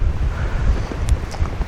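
Strong wind buffeting the microphone, a continuous low roaring rumble with gusty swells and no voices.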